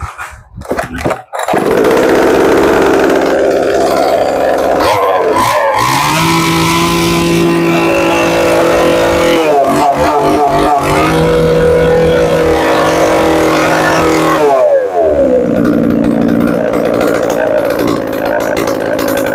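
A used Japanese chainsaw weighing 4 kg with a 40 cm bar sputters to life after a few pull attempts, then runs loud and close with a buzzing two-stroke drone, dropping briefly and revving back up several times.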